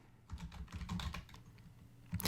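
Bursts of keystrokes on a computer keyboard while entering a field name in a list setup, quick close clicks with a short pause before a final sharp burst.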